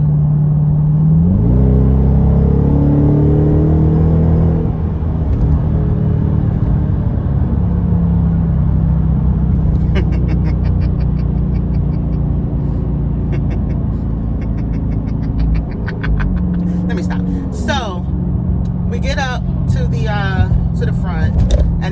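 Dodge Charger R/T driving on a road, its engine revving and whirring with rising and falling pitch as it accelerates, steady and loud throughout, while a person talks over it.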